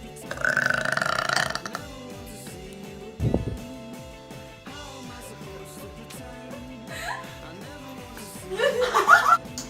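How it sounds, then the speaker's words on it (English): A girl belches loudly and at length, followed by further gurgling burps, with chuckling and laughter around them. "I'm taking belching lessons from this girl"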